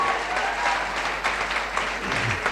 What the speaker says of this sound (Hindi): मैं चाहूंगी मेरे गुरु अवधेश यादव के लिए एक बार जबरदस्त ताली हो जाए